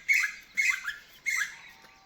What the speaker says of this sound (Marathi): हे पहा कोकिळ्याचा आवाज किती छान येतोय